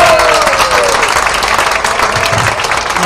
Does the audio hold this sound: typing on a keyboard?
no